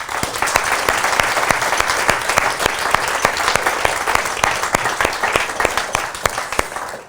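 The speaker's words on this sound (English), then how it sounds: "please give the organisers a round of applause" Steady, loud applause from a meetup audience thanking the organisers of a London accessibility gathering, dense clapping sustained throughout without letting up.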